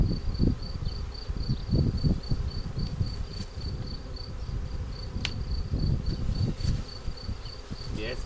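A honeybee swarm buzzes steadily as it enters a hive in a beekeeping setting, a dense continuous hum of many insects with a high whine, close and fairly loud, with a few clicks and rustles over it.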